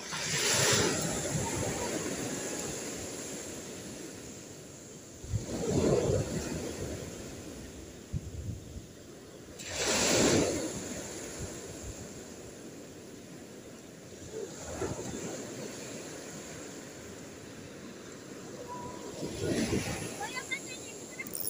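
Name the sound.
sea waves in strong northeast wind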